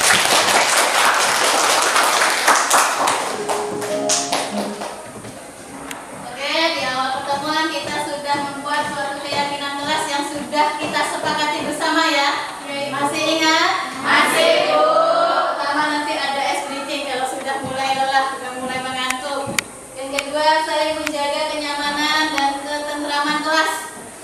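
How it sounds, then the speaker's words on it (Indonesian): Students in a physics classroom clap loudly for about four seconds, then the applause gives way to someone speaking at length. "Tepuk tangan untuk kita semua ya."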